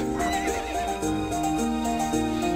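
A horse whinnies in a video game over steady music and rhythmic hoof clopping, close and clear, with no talking.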